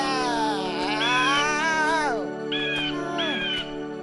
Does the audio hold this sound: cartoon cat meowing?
yes